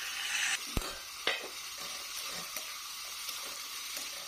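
Potatoes fry with turmeric, salt and spices in a pan for a rohu fish curry, a steady hiss of sizzling broken by a few sharp scrapes and clinks of the spoon stirring, no voices.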